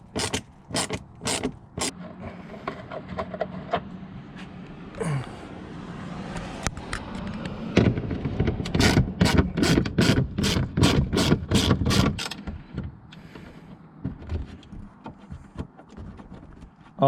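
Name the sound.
socket wrench unbolting Ford F150 headlight assembly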